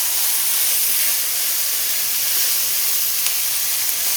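Onions with a pinch of salt hit a hot pan for smothered pork chops, giving off a loud, continuous steamy hiss that stays even and unbroken throughout.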